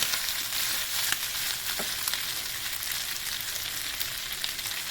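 Liver and onions sizzle steadily in a frying pan, a dense, continuous crackle with small pops, close and alone with no talking.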